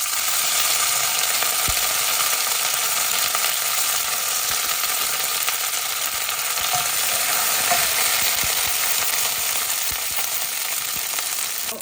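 Curry leaves fry in hot oil in a pan while cooking prawns, giving a loud, continuous crackling sizzle close by. Occasional faint clicks and stirring sounds come through the sizzle, and no one speaks.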